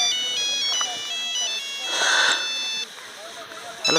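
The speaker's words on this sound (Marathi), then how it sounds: "याला फोन कोणाचा आला?" A mobile phone ringtone plays a bright, repeating electronic melody at close range for a few seconds, with voices talking over it.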